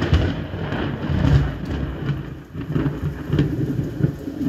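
A simulated thunderstorm plays from a simulator's emergency mode: steady heavy rain hiss with low rumbling thunder throughout, continuous and fairly loud, with no talking.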